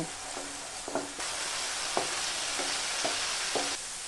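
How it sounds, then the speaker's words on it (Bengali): Onions frying in a pan with ginger, garlic and green chilli paste for a Bengali doi katla fish curry, sizzling steadily while a spatula scrapes and stirs in repeated strokes about once a second, close and clear. "পেঁয়াজটা একটু লাল লাল হয়ে এসেছে এই সময় দিয়ে দেব আদা রসুন ও কাঁচা লঙ্কার পেস্ট তারপর এটা একটু কষিয়ে নেব"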